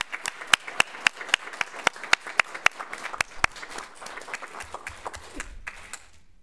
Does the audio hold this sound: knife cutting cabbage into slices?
no